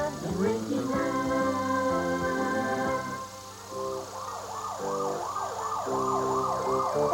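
A police car siren wails and yelps nearby, starting with a rising two-tone sweep and then switching to rapid repeating whoops, loud and steady over faint road rumble.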